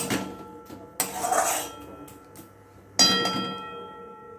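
A spoon clatters against a metal pot while coconut filling is stirred into milk for gokul pitha, three distinct bursts of clinking and scraping separated by quieter pauses, close by with no speech.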